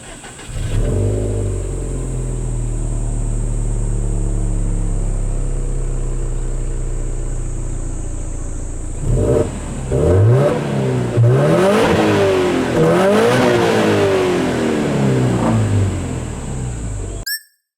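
A Subaru WRX with the EJ20 engine, STI parts and an aftermarket muffler, drones loudly and steadily from inside the car, then revs up and down through gear changes as it pulls away. No one speaks.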